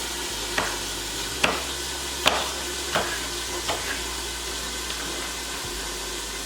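Breakfast potatoes frying in a pan, a steady soft sizzle running throughout with several sharp clinks and stirring knocks spaced a second or so apart, close by and moderately quiet with no talking.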